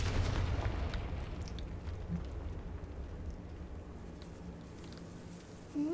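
A Confringo spell explodes in a Hogwarts video game. A low booming blast hits at the start and fades into a long, faint, crackling rumble that sounds like rain, then a sudden burst returns at the very end.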